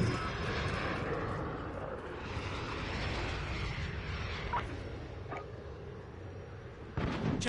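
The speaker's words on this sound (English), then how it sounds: "We got a VTOL coming in." A VTOL aircraft approaches in a Call of Duty match, a loud, continuous engine roar with a rushing broadband hum and a few faint distant thuds underneath.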